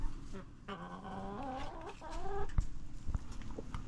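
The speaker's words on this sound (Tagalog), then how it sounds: "Ang ganda po pala ng manok ni utol din eh." Chickens clucking and calling at a backyard poultry yard, with a couple of drawn-out, rising clucks close by, followed by softer scattered sounds and light thumps.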